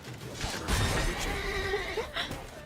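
Roach the horse in The Witcher 3 lets out a drawn-out whinny that rises and wavers over a couple of seconds, close and fairly clear above low ambient game sound.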